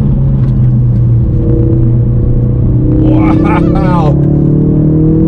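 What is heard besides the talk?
Ford Focus RS driving fast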